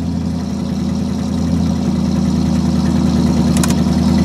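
A car engine keeps running steadily after the key is turned off, caused by alternator backfeed, giving a loud, even idle hum close by with no voices.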